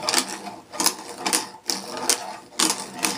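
A rounding plane works wood to a six-degree taper, giving repeated rasping strokes in an uneven rhythm, each bright and scratchy and close by, with short pauses between passes.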